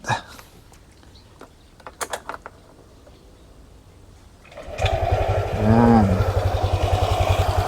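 After a few clicks and light handling, a motorcycle engine with a newly replaced pulley starts at close range and settles into a loud, steady idle with a fast, even pulse.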